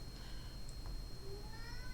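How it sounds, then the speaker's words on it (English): A pet cat meows faintly in the background of a quiet indoor room, a brief distant cry over low steady hiss. "that's my cat that you hear screaming in the background"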